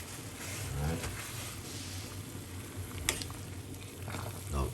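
A pot of thyme tea water on a cooker comes to a boil, a soft, quiet bubbling and patter with a faint, low rumble underneath.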